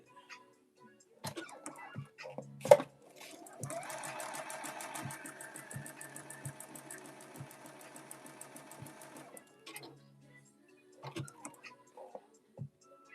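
A domestic sewing machine stitches a zigzag, a quiet steady run of rapid ticking needle strokes lasting about six seconds, framed by brief handling clicks and taps before and after.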